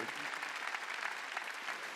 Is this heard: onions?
no